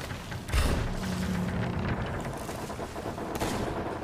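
Cannon and gunfire during a naval battle in the pirate video game Sea of Thieves; a loud booming shot early on followed by rumbling, crackling battle noise that continues throughout, no talking.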